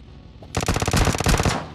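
Automatic gunfire in the mobile battle royale game PUBG Mobile Lite, a loud, close, rapid burst of shots that starts abruptly after a quiet moment and continues to the end.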